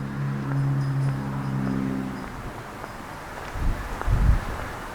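Low buffeting wind noise rumbles against the microphone, with a couple of heavier gusts near the end and a faint hum early on.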